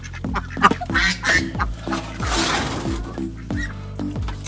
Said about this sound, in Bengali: হাঁস প্রচন্ড ডিস্টার্ব করে।